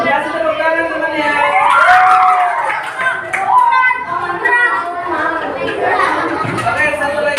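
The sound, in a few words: schoolchildren applauding and cheering for classmates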